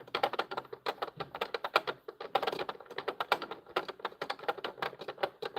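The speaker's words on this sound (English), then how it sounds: "that clicking noise, if you use your imagination, is the popcorn popping, the popcorn kernels popping" Plastic pieces of a LEGO popcorn wagon click rapidly in quick, irregular bursts, a close, crisp rattling that stands in for popcorn kernels popping, moderately loud with no talk.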